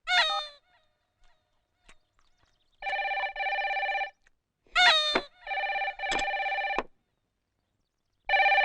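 A telephone rings in a Telugu comedy film scene, sharp repeated electronic ring bursts alternating with loud honking, squawking comic sound effects, with near silence between them.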